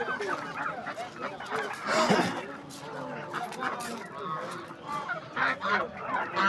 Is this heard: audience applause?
no